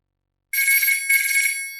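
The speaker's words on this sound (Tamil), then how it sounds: "புது நம்பர்ல இருந்து போன் வருது." A mobile phone rings for an incoming call from an unfamiliar number, a bright electronic ringtone in two rapid trilling bursts, loud and close, starting abruptly after a moment of silence.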